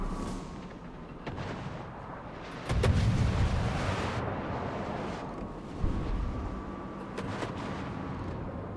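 Naval guns from enemy warships in a World of Warships-style battle, with a loud artillery blast followed by rolling distant booms and scattered shots over a steady engine and sea rumble.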